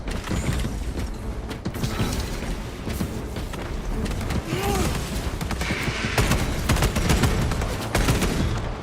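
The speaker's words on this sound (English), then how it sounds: "An assault rifle with a grenade launcher on it." An assault rifle fitted with a grenade launcher fires in a video game, a dense, continuous clatter of mechanical shots and bursts over busy battle noise, with faint voice lines underneath.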